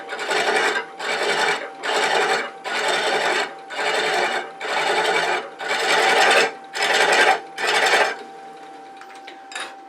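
Hand-chasing screw threads into a Palo Santo wood box on a lathe, heard as nine steady rasping cutting strokes in an even rhythm, close and fairly loud, each about half a second apart, then a short quiet tail.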